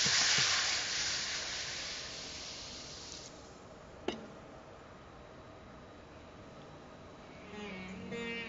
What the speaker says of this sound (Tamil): இந்த தண்ணீர் கொதிக்க ஆரம்பிச்சிருக்கு